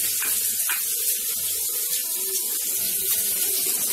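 Onions fry in hot oil in a kadhai, giving a continuous bright sizzle and hiss with faint low clatter underneath, steady throughout and without talking.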